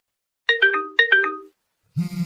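A phone lying on a table plays a bright melodic ringtone, two identical chiming phrases in quick succession, then a lower buzzy tone begins as it keeps ringing, close and clear.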